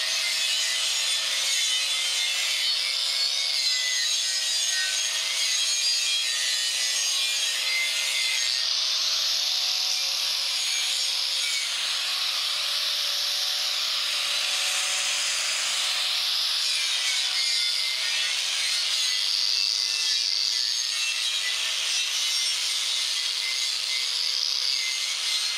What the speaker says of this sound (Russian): С помощью шлифмашинки зачищаем.